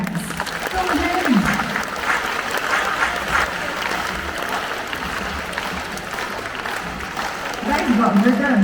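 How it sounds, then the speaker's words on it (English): Audience at a zoo sea lion show claps hands in steady continuous applause, loud and close, with crowd noise throughout the clip. "Our trainer says the boy will not move, even if all of you try clapping your hands."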